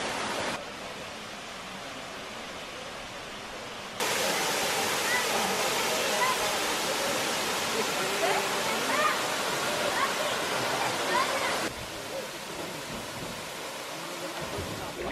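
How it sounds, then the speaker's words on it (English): A waterfall pours into an inland river in Costa Rica, heard as a steady, dense broadband rush that stays close and even throughout, turning noticeably louder and fuller through the middle stretch before easing back. "cooled off with this beautiful waterfall"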